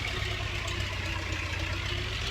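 A tractor engine in Farming Simulator 19 labours steadily under load, a continuous low rumble with a faint knocking pulse and no gaps across the short stretch.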